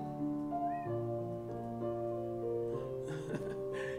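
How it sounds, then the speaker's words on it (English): A cat in the Second Life virtual world gives a couple of clear, melodic meows over a soft, steady tonal background, fairly close, with no talking. "Can you hear the cat noise?"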